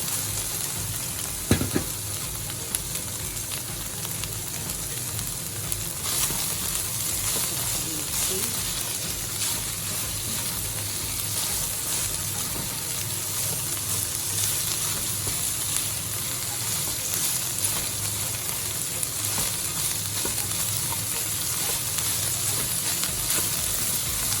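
Shredded cabbage stir-frying in a hot pan for Filipino pancit guisado, giving a steady, close sizzle and hiss throughout with occasional scraping stirs and no talking.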